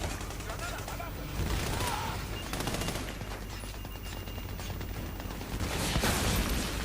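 Machine gun fire rattles in the Army of Two video game, dense bursts of gunfire and mechanical clatter over a noisy battle backdrop, with voices speaking at moments.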